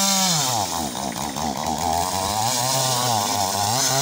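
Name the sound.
chainsaw running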